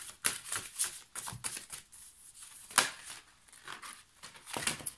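Tarot cards being shuffled and drawn, a series of quick papery riffles and slaps in uneven bursts, close by and crisp, with brief pauses between handlings.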